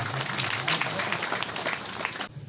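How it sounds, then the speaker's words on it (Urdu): Warm applause from a school audience greeting a student performer at a children's academy stage event, steady crowd clapping that fills the hall and then cuts off abruptly near the end. "آپ کی بھرپور تالیوں میں محمد حسنین۔"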